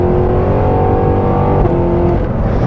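A 2022 Cadillac Escalade V's supercharged engine revs loud and close, a dense, steady growling roar held for a few seconds with a slight dip near the end.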